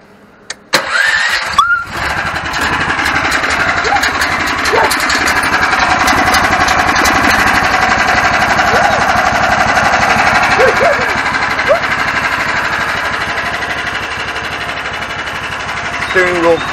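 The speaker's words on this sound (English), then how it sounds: "I'm gonna start it up for a bit." A homemade vehicle's engine cranks, catches and then settles into a loud, steady idle that continues for a long stretch, close by. A voice can be heard faintly beneath the engine noise.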